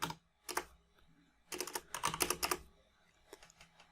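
Terminal commands are typed on a computer keyboard in short bursts of crisp, close key clicks separated by brief pauses.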